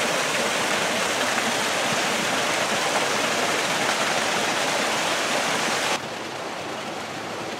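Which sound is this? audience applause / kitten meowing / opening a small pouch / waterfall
waterfall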